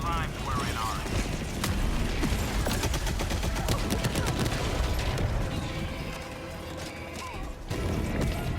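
W.A.S.P. support weapon firing at a Flash Mob in Helldivers 2: dense rapid shots and explosive impacts run continuously, loud and busy, with a brief lull near the end.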